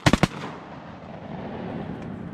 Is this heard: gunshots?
yes